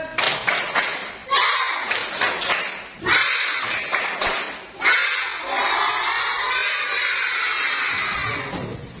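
A classroom of pupils performs the 'tepuk semangat' clapping chant, rhythmic group claps in quick patterned bursts with children's shouted chanting between them, ending in a sustained loud cheer.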